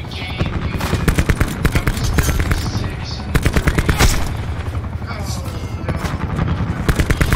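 Rapid automatic gunfire and bursts of shots from multiplayer Black Ops 4, loud and repeated through the whole stretch, with a voice talking over the game.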